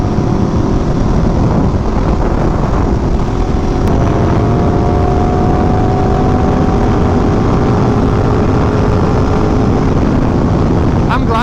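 An Aprilia motorcycle engine runs steadily with a loud, continuous idle rumble close to the microphone, holding level throughout with wind buffeting in the background.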